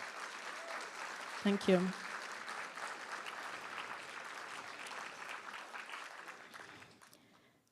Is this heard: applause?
yes